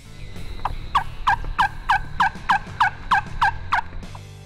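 A wild turkey gobbles repeatedly outdoors, about nine quick rattling calls in a steady rhythm that are moderately loud against a low background rumble, with no voices.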